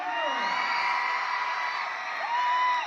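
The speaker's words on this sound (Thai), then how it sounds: "ขอเสียงเชียร์ถามมณีแดงดังๆหน่อยเร็ว" Loud, dense crowd cheering and whooping at a kathoey boxing match, backing the red corner, with rising yells cutting through a steady roar of voices close by.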